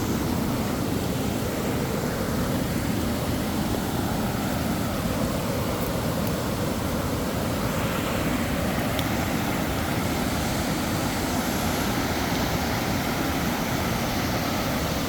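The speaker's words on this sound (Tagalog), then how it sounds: "So yung sound ng baha, ayan, napakalakas po, maganda po yung sound niya." Floodwater after heavy rain rushes without letup at Dumalon in Zamboanga City, a loud, steady, broadband roar that fills the whole scene with no voices over it.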